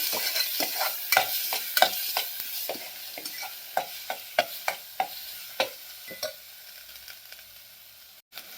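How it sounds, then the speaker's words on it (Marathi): Masala roasts in a pot for sambar, a soft background sizzle broken by repeated sharp scraping taps of a spoon against the pot at an uneven rhythm, close and clear with no talking. "आता हा मसाला आपल्याला भाजून घ्यायचा आहे बघा यामध्ये"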